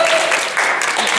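Short burst of audience applause at a Toastmasters speaking contest, dense clapping from a roomful of people, steady and fairly loud for about a second.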